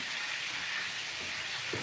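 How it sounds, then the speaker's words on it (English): Onions sizzling in a hot pan while cube steak with gravy is being cooked, a steady broadband hiss that runs unbroken and fairly loud, with faint clatter near the end. "Throw the onions in there really quick"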